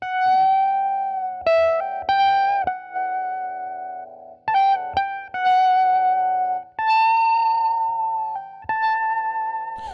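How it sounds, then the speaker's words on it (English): A 2019 Duoton JS-2 electric guitar plays sustained, wailing notes and short phrases through an echo effect rather than amp reverb. Each note rings out and trails off, close and fairly loud, with no talking. "you probably can hear this echo, which is not a reverb from the amp"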